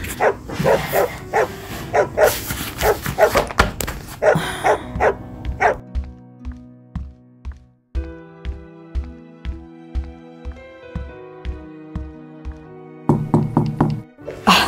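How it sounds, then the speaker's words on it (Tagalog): Sharp knocks strike a door in repeated bursts, loud and close, mixed with barking dog sounds and music; no one speaks. "May kumakatok."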